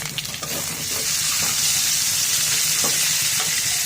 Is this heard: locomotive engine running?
no